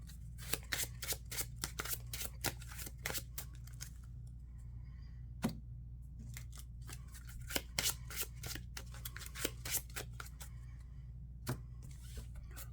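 A deck of Marvel Champions cards being shuffled on a table: quick, close riffles and sharp snaps in irregular bursts over a low steady hum, with no talking.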